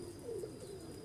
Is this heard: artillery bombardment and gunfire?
no